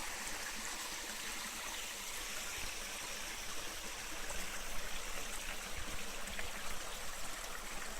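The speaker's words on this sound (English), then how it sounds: "Just climbed up on top of that little bit of bedrock waterfall." A small waterfall trickles over bedrock in a gully, a steady broadband rush of water holding close and fairly constant throughout with no voices.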